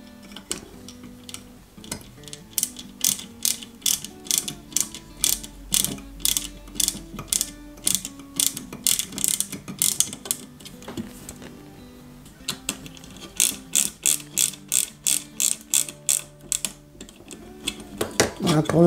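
Small screws driven into the control box of a model Ghostbusters Ecto-1 kit, heard as rapid repeated ratcheting clicks in bursts, close and fairly faint, with a quiet tonal background beneath.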